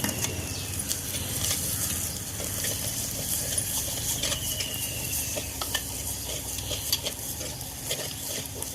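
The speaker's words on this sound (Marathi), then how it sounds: "आता हा जो वाटण केलेला मसाला आहे तो पण याच्यात टाकते." Ground wet masala paste for urad dal aamti fries in hot oil with turmeric, giving a continuous soft sizzle with occasional stirring scrapes and taps of a utensil in the pan, close and fairly quiet.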